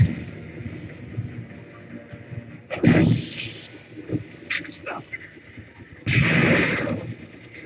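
Turret gunfire in an Avatar video game comes as loud, rough bursts, one around the middle and a longer one near the end. Fainter shots and game noise fill the gaps between them.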